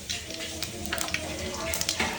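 Mustard seeds spluttering in hot oil in a home kitchen, a steady close hiss scattered with small irregular pops and crackles.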